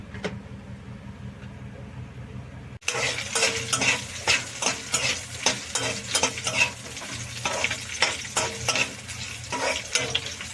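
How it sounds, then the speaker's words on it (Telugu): Loud, steady sizzling of green chillies frying in hot oil, starting abruptly after a quiet moment, with occasional stirring scrapes and clinks of a spoon. "పచ్చిమిరపకాయలు వేగితే చాలండి, సింపుల్గానే అయిపోయిద్ది పచ్చడి."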